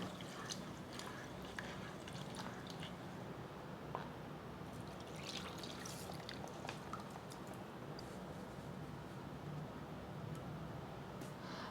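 Red quinoa being rinsed by hand in a bowl of water, a steady soft swish and trickle of liquid with faint drips throughout, close and quiet, no talk.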